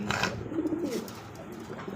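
Lahori pigeons give soft, low cooing close by, a short rolling coo over faint background noise.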